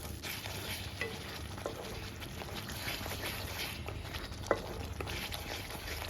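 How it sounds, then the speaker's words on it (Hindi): Tomato puree fries over a medium flame in a pan, a soft, even sizzle with faint stirring scrapes and one sharp clink near the end. "प्यूरी को बहुत अच्छे से हमें भून लेना है।"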